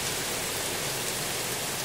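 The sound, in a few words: heavy rain during a rainstorm in West Yorkshire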